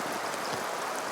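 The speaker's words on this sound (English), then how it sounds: "Eric Peters making light work of the rain, certainly lighter than this man." Steady rain falling at an outdoor recurve archery quarterfinal in Berlin, a continuous soft hiss of drops on surfaces, close and even, with no talk.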